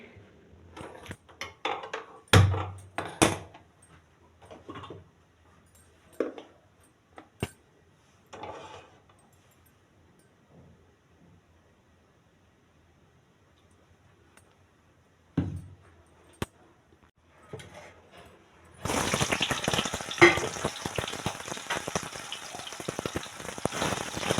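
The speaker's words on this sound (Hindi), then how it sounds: "चलिए अब कढ़ी छोंक लेते हैं" Tempering kadhi in hot oil, with buttermilk, besan, onion, turmeric, chilli, fennel and coriander. Scattered kitchen taps and clicks give way to a loud, steady sizzle in the final seconds.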